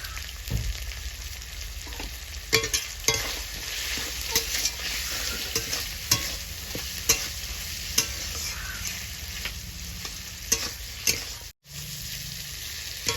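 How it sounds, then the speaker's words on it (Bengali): Masala paste with tomato and a pinch of salt being fried and stirred in a pan for a vegetarian banana-flower dalna, a steady sizzle broken by repeated scraping strokes of a spoon, close and fairly loud, with no talk. "মশলাটা আমি ভালো করে এবার কষিয়ে নেবো"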